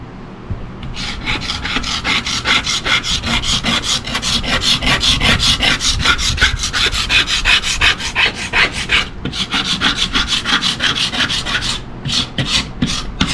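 Varnish being scraped off wood after Clean Strip stripper, with the finish resisting and needing hard pressure: loud, close, continuous rasping strokes in a fast steady rhythm, briefly pausing near the end before a few final scrapes, with no voices.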